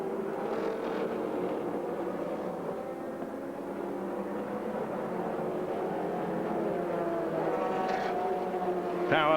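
GT race cars in an American Le Mans Series race at Mosport, a distant engine drone that stays faint and even and swells slightly toward the end, with little else over it.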